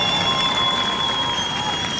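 A crowd cheering and applauding at a surfing contest in Victoria, a loud, steady wash of cheers and clapping with a bright sustained tone running through it.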